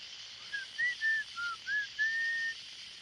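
Someone whistles a short melodic phrase imitating a flute, about six clear pitched notes rising and falling, the last one held, fairly faint over a quiet background hum.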